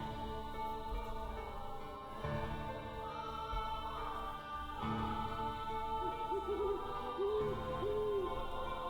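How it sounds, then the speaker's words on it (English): An owl hoots repeatedly in The House in Fata Morgana, its soft calls rising over a dense bed of layered game music and ambience, with the clearest hoots near the end. "Oh my god, sounds like an owl."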